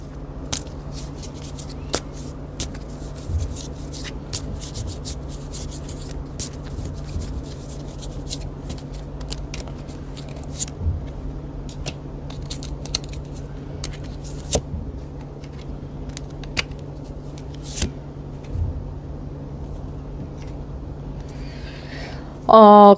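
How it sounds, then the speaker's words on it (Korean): Tarot advice cards being drawn one after another from a deck give faint, scattered card flicks and soft snaps over a steady low hum. A louder rustle comes at the very end. "조언 카드 쭉 뽑으면서 리딩 마무리하도록 할게요"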